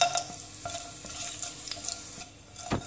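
Garlic frying in oil with whole cloves, peppercorns, cardamom, cinnamon and bay leaf, stirred with a steady sizzle and a few sharp scrapes of a utensil against the pan, close and alone.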